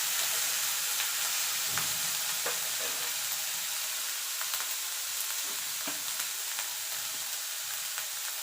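Eggplant frying in hot oil, a steady close sizzle with occasional stirring clatters throughout, no voices.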